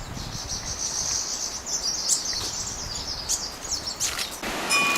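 Birds chirp and call amid a steady high insect-like chorus in the Bhutan outdoors near the Himalayas, a continuous layer of twittering with a few sharper calls standing out, no voices present.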